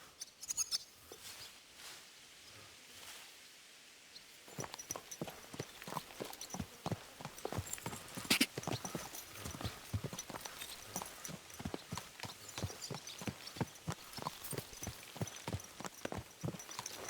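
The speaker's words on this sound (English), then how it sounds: "Easy, good horse." Hooves clip-clop steadily and evenly as a horse walks in the medieval video game Kingdom Come: Deliverance II. The footfalls sound close and distinct, and a faint ambient bed starts before them.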